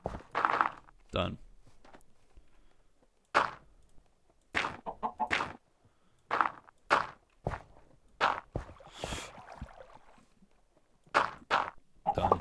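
Minecraft chickens clucking in short bursts, mixed with blocky game footsteps and thunks, with a player talking in between.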